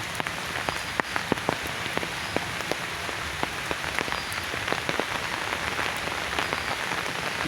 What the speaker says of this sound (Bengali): সকাল থেকে বৃষ্টি।